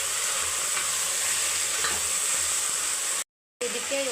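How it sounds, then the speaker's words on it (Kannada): Potatoes fry in oil in a pan with a steady, close hiss and sizzle broken by faint stirring, cutting out briefly near the end before resuming. "ಇದನ್ನ ಇವಾಗ ಒಂದು 5 ನಿಮಿಷ ಫ್ರೈ ಮಾಡ್ಕೊತಾ ಇದ್ದೀನಿ."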